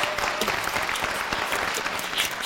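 A studio audience at a comedy evening bursts into loud, sustained applause, dense clapping filling the whole moment.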